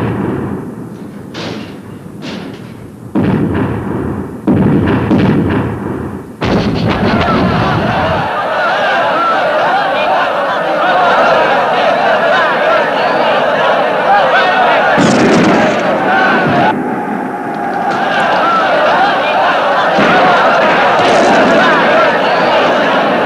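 An artillery shot fired at the Winter Palace from the Peter and Paul Fortress: several sharp, loud bursts in quick succession, then a long, dense roar of rumbling noise that carries on to the end.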